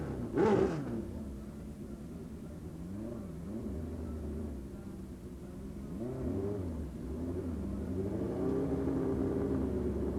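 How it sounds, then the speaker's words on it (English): Racing motorcycles at the 1990 Ultimate Streetbike drag meeting at Blyton, among them a nitrous Suzuki, launch and accelerate hard, with engines revving and rising in pitch, fading slightly and then surging again, loud and close. "both these bikes struggle to find traction on the Blyton surface"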